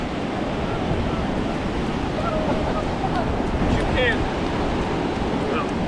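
Ocean waves wash continuously onto a beach in a broad, steady roar, with wind buffeting the microphone and a person speaking briefly over the surf.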